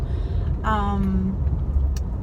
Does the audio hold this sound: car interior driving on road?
yes